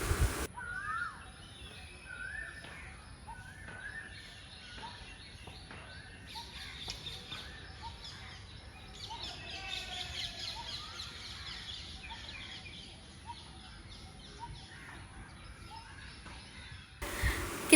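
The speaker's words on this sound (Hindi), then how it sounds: "क्या खूबसूरत बर्ड्स, कोयल बोल रहे थे, आप लोग भी सुन लो।" Koel birds call in a park, their faint, repeated calls standing out from a quiet outdoor background for most of the stretch.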